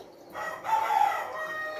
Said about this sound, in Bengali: এই কুত্তো মোরগটা ডাকে, কথাই বলতে দেয় না